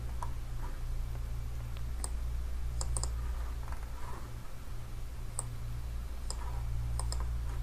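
Computer keyboard keys clicking as a command is typed, a sparse run of light, close taps spread irregularly over several seconds above a steady low hum.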